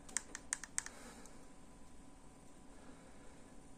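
Quick bursts of clicky keystrokes on a mini backlit keyboard with touchpad, a few taps close by and faint, then quiet room hum.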